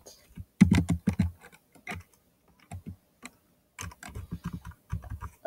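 Quick bursts of keystrokes on a Chromebook keyboard as a terminal command is entered, close and crisp with short pauses between clusters of clicks.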